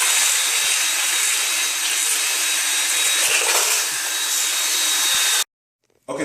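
Tile cement being mixed in water with a power mixer, a steady loud broadband whir running for about five seconds before cutting out abruptly, then briefly starting again.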